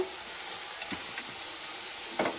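Onion and capsicum frying together in a pan for chilli chicken, giving a steady quiet sizzle with a few soft stirring scrapes and no talk.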